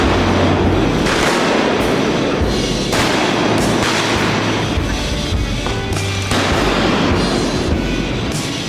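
Shotgun fire during a duck hunt in flooded Arkansas timber, loud heavy blasts that repeat in an irregular volley, booming and close over a constant dense background roar.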